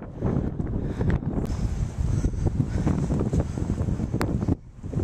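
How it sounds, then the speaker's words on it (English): Strong wind buffets the microphone at a beach in Beppu, Kyushu, a loud continuous rumble with gusty surges and faint surf-like hiss behind it. "It's windy, my apologies."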